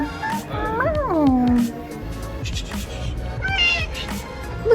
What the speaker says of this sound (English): we have another kitty over here